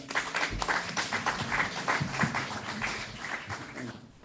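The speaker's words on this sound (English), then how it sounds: "give him a little round of applause" Panel members at a corporate counsel forum in a Dallas hotel get a brief round of applause, a modest patter of clapping from a seated audience, fairly quiet and steady.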